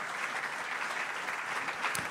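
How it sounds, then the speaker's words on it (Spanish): A church congregation claps during a sermon, a dense, steady wash of applause filling the room for a couple of seconds with no voices over it. "Un aplauso."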